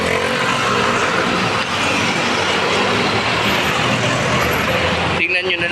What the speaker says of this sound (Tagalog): Tingnan nyo na lang muna yung mga mga motor, mga sasakyan